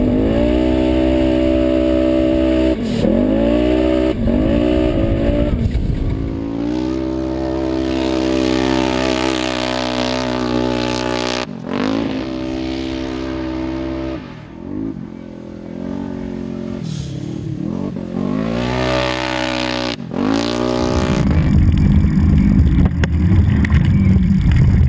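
A Polaris RZR XP Turbo side-by-side, turbocharged and running on E85, is driven hard in sand dunes. The engine roars loud and close, revving up and down repeatedly with brief lifts off the throttle and no talk over it.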